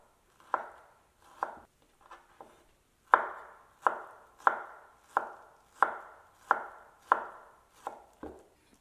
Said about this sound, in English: taking 2 big mangoes, taking the skin off and chopping it fine